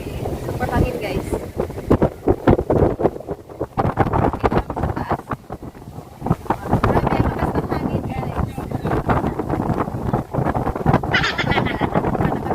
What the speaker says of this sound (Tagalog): Oh my God, ang hangin. Super hangin, guys.